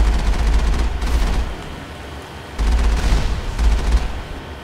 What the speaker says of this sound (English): What am I even shooting at?